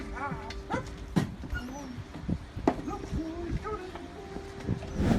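A rescued puppy at a police station whimpers and yips in repeated high, wavering cries, close and moderately loud, with short bumps and handling noises between them.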